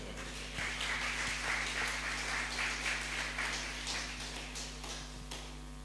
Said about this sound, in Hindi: हम तालियों के साथ उनका स्वागत करेंगे।